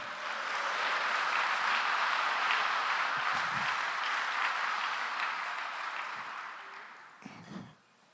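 A church congregation applauds during a Portuguese-language sermon, a dense, steady wash of clapping that fills the room for about seven seconds before tapering off, followed by a brief rustle near the end.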